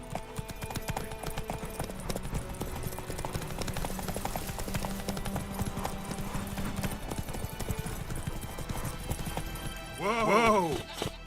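A horse in The Witcher 3 gallops with steady rhythmic clip-clop hoofbeats under game music, ending in a brief loud neigh near the close.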